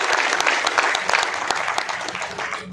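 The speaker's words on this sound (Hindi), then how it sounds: "जोरदार ताली बजाकर साथी का स्वागत करिए" Loud, dense applause from a crowd at a national party convention in Mumbai, steady clapping sustained throughout with no voices standing out.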